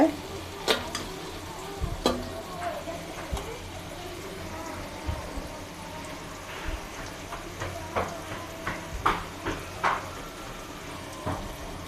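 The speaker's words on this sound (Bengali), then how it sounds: "আমরা পেঁয়াজটাকে বাদামি কালার করে নেব" Onions fry in a pan in a Bangladeshi village kitchen while being stirred toward brown for a beef curry, a quiet hissing sizzle under scattered clinks and scrapes of a spoon, with faint voices in the background.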